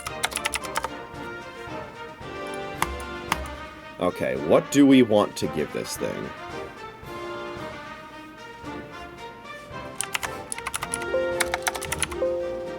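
Rapid clicking keystrokes on a new computer keyboard, including repeated Control-F shortcuts, rattle in short bursts close to the microphone, with someone speaking over part of it.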